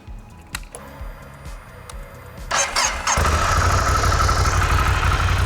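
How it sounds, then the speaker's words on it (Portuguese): An 800 cc Ducati Scrambler motorcycle cranks over and fires up, then settles into a loud, steady idle close by, preceded by faint clicks and handling noises. "eu vou ligar ela e acelerar um pouquinho, só para você ouvir essa sinfonia"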